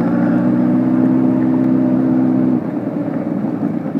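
A motorbike ridden along at steady speed, a continuous close engine drone with wind rush that eases slightly partway through, no talk.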